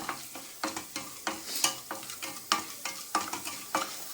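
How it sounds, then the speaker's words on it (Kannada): Two teaspoons of chana dal fry in oil for a methi greens sambar, stirred with a spoon that scrapes the pan in a steady rhythm about twice a second over a soft sizzle. "ಈಗ ಎರಡು ಟೀ ಸ್ಪೂನಷ್ಟು ಕಡಲೆಬೇಳೆ ಕಡಲೆಬೇಳೆ ಗಮ್ ಅಂತ ಪರಿಮಳ ಬರಬೇಕು ಅಷ್ಟೊಳಗೂ ಹುಡ್ಕೊಳ್ಳೋಣ"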